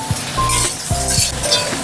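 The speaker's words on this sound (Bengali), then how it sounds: "বন্ধুরা এবার আলুর মধ্যে পরিমাণ মতো লবণ আর হলুদ দিয়ে আমি আলুটাকে ভেজে নেব।" Potatoes fry loudly in a pan with salt and turmeric, a close, steady sizzle broken by a few quick clinks and stirring scrapes of a spoon against the metal.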